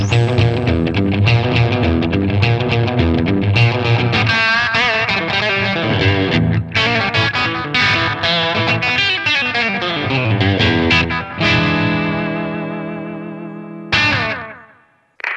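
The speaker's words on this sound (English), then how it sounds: "Now with the carbon copy, let's start with the slap setting." Electric guitar playing chords and single notes through an MXR Carbon Copy analog delay pedal on a short slapback setting, loud and continuous with quick echo repeats, ending on a ringing chord that fades out.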